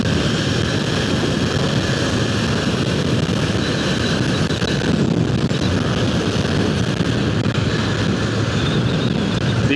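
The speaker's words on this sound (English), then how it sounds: "These bikes are so fast and so nimble" A motorcycle ridden at high speed, with loud, steady engine roar and wind rush heard close up throughout, holding a constant pitch with no break.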